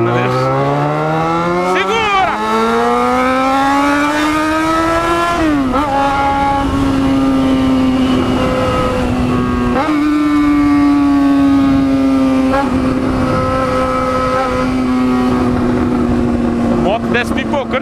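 Yamaha XJ6 motorcycle engine revving up and down with rising and falling pitch sweeps, loud and close throughout, with crackling exhaust pops between throttle changes.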